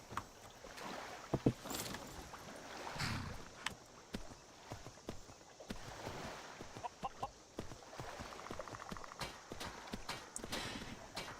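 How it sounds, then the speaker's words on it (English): Horse hooves in the video game Skyrim clip-clop in an uneven walking rhythm, fairly quiet, over a soft ambient background with occasional faint chirps. "My horse."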